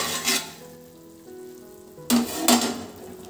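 Chicken for donne biryani sizzles and stirs in a pot, a close steady frying hiss with louder bursts near the start and end, no talk.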